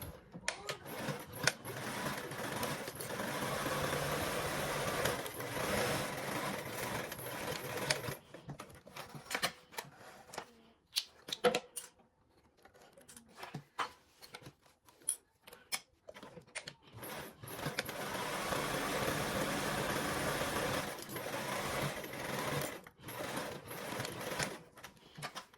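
Sewing machine stitching a 3/8 inch seam on a charm piece, running in long steady bursts with a pause in the middle filled by sparse clicks and handling noises, then running again near and loud.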